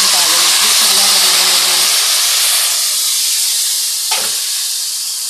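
Onions browning in a pan give a loud, close hiss and sizzle that dominates throughout and eases slightly toward the end, with a brief clink partway through.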